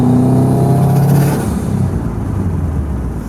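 Subaru WRX hatchback engine revving lightly at part throttle, a loud close deep drone with a steady tone that eases off and settles into a lower rumble.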